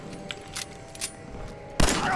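Gunfire in Fallout 4: a burst of shots cuts in near the end after quieter scattered thumps, loud and close against a low game background.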